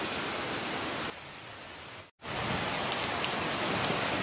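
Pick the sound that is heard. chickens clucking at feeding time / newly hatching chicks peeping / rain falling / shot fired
rain falling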